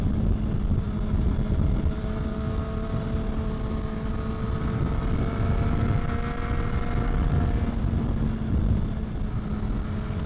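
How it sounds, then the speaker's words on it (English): A Honda CBR 600RR motorcycle rides on back roads, its engine a steady, continuous drone whose pitch slowly climbs and falls with the throttle, mixed with wind rush and no talking. "This is my first time taking this bike into the back road"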